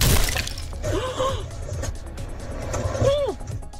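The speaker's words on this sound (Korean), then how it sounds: "한 소형 트럭이 중앙선을 넘어온 차량과 정면으로 충돌합니다." A small truck collides head-on with a car that crossed the center line near a bridge. There is a sharp shattering crash, then motor rumble and a second burst of impact noise, loud and close.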